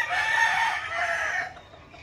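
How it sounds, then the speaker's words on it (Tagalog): An Ulikba rooster, a Filipino native chicken about six years old, crows loudly and close by, one long drawn-out call that fades away near the end. "manok ulikba."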